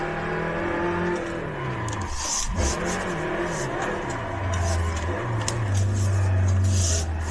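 Rear-wheel-drive Hyundai Tiburon with about 400 horsepower, drifting as its engine revs up and down, the pitch dropping then climbing again into a loud, sustained wail.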